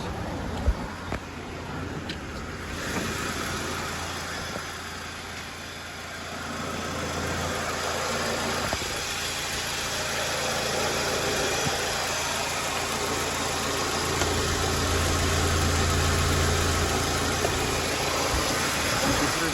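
A 2006 Audi A4 B7 engine idling, a steady, smooth low rumble heard close and continuous, running evenly with no change in pitch.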